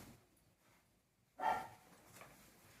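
A single short dog bark rings out mid-clip, moderately loud against a quiet background, followed by faint lingering noise.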